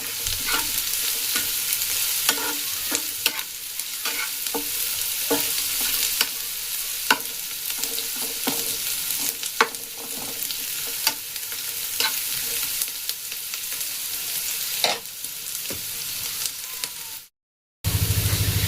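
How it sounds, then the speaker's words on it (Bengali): Onions and black cumin frying in a pan, with a constant close sizzle broken by repeated scraping clicks of a spoon stirring, until a brief silence near the end. "কালো জিরে আর পেঁয়াজগুলোকে একটু লাল করে ভেজে নিই"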